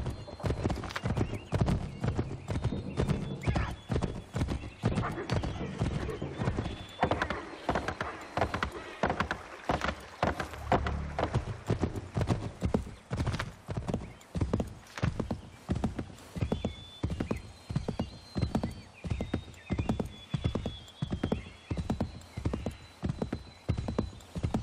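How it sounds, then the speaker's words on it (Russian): Horse hooves clip-clop in a steady, regular rhythm throughout, a horse ridden in the video game Assassin's Creed III, the hoofbeats loud and close with no other sounds standing out. "Вот славный конь."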